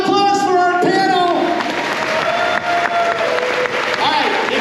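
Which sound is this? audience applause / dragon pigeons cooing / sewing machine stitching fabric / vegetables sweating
audience applause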